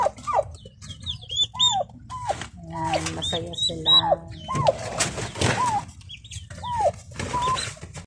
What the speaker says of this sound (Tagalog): Mga manok, mga manok. Manok, manok. Na, daming manok.